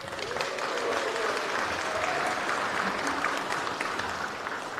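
Sustained, even audience applause at a youth awards ceremony, dense clapping from a large crowd holding steady throughout with no talk over it.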